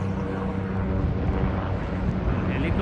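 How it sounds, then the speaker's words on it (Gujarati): A helicopter flies nearby on the Kedarnath–Gaurikund route in Uttarakhand, a steady low droning rotor and engine hum that fills the short clip at an even level. "અહીંયા આગળ હેલિકોપ્ટર આવ્યું"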